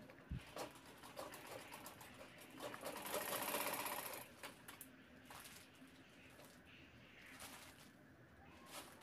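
A sewing machine stitches the corners of a fabric shopping bag in a steady mechanical whirr, close and fairly quiet, swelling briefly louder midway before settling back to a softer run.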